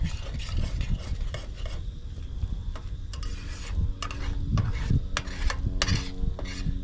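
A metal utensil scrapes and stirs in a stainless steel pan at a lakeside campsite on Lake Michigan, making continuous rasping scrapes and clinks over a faint sizzle, with no talking.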